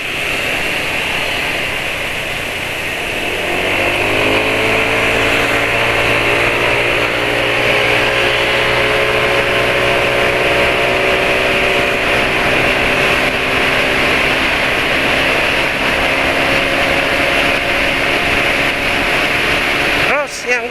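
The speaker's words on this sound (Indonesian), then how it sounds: "dari sisi kehalusan suara mesin di RPM rendah" An engine running on Deltalube Adventure oil starts up after a few seconds of hiss, then idles at low RPM with an even, steady hum that stays close and unchanging.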